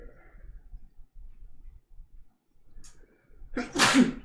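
A single loud, sharp sneeze bursts out near the end, after a stretch of quiet low rumbling and faint murmurs.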